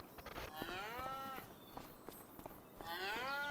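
Cows in Farming Simulator 25 moo in long, drawn-out calls, two clear moos with a few shorter low grunts between them, set against a quiet farm background with no talking.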